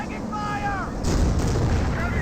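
Panther tank cannon fire in the video game Company of Heroes comes as a deep boom that rumbles for about a second, under a commentator's voice and other battle noise.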